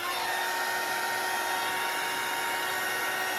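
A hair dryer blows steadily, drying alcohol ink on a large Monstera leaf, heard close and loud as a continuous airy whir with a faint whine, alone and unbroken throughout.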